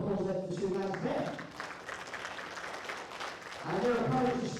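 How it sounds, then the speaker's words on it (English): Applause for players at a world bowls championship rises as a soft, steady patter of clapping from an indoor crowd, with a voice speaking over it at the start and end. "can I give a round of applause there for the two lads there?"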